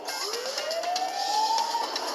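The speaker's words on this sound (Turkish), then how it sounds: "Sireni çalıştır." An ambulance siren from a Turkish TV crime drama gives a single rising electronic wail that climbs steadily and then cuts off. It sounds loud and fairly close, over a hissy background with no talking.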